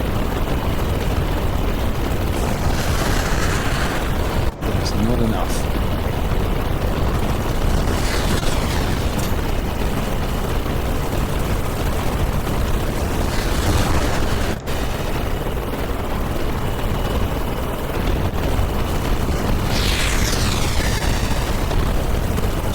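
Explosions boom across a battle in an island capture video game, with heavy fire raining down near a command centre; dense, continuous rumble with repeated blasts and a brief line of speech.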